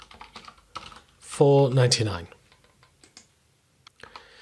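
Computer keyboard typing in a spreadsheet program, scattered light key clicks before and after a short burst of speech, close and fairly quiet.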